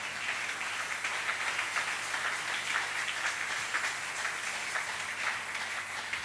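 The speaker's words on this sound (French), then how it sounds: "Applaudissons l'Éternel des armées." A church congregation applauds during a Sunday service, a steady, dense wash of clapping sustained throughout at moderate distance with no clear breaks.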